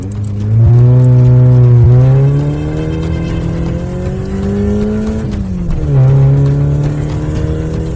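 A car engine hums and rises in pitch as it speeds along a deserted road at night, steady and close, with shifts in revving but no voices.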